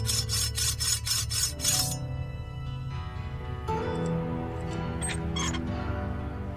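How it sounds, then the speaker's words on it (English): A blade rasps against a whetstone in the video game Anna: a quick run of rhythmic scraping strokes, then a sustained metallic grinding with ringing tones and a few scattered clinks, no voices. "Yes, alright, sharpen it."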